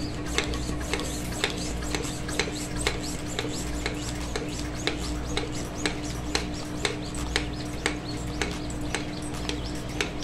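A handheld vacuum pump works on the sealer port of a freeze-dried milk storage bag, giving sharp, regular mechanical clicks about twice a second over a steady background hum, close and distinct.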